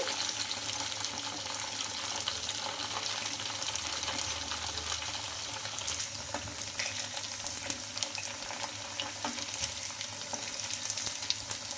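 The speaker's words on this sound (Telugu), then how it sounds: "ఎక్కువ డీప్ ఫ్రై లేకుండా తక్కువ ఆయిల్తో అయితే ఫ్రై చేసుకుంటున్నాం" Breakfast snacks made from ration rice shallow frying in a little oil, a continuous low crackling sizzle with occasional light taps, fairly faint and close throughout, with no talking.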